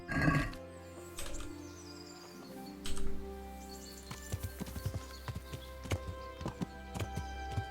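Horse hooves in the medieval game Kingdom Come: Deliverance, a rhythmic series of clip-clops on the ground amid birdsong and an ambient background, with a brief voice near the start.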